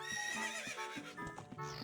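Horses in The Legend of Zelda: Ocarina of Time on the N64 give a loud, close whinny, followed by rhythmic clip-clopping hoofbeats and short snorts in the game audio.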